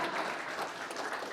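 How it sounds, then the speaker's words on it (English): An audience applauding at a conference, steady dense clapping from a crowd throughout, with no voices standing out. "let's go ahead and applaud them before they get here"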